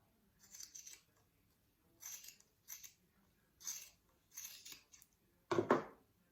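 Scissors snip yarn for a knitted snowman's scarf in several quiet, crisp cuts, spaced irregularly, ending with a louder clack of the blades.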